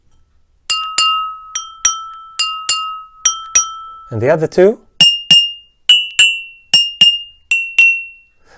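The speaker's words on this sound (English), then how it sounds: "We're just exploring the sound that the glass itself has." Drinking glasses struck one at a time, each tap ringing out clearly with a bright sustained tone, a brief voice interrupting midway before more strikes follow.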